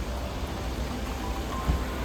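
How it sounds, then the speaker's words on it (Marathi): Heavy rain pours down in a dense, even wash of hiss, with a faint low rumble and one brief thud near the end, no voices. "पाऊस इतका जोरात पडतोय"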